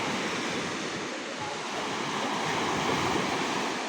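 Calm surf at low tide on an ocean shore, a steady broad wash of small waves breaking close by, loud and even throughout with no voices.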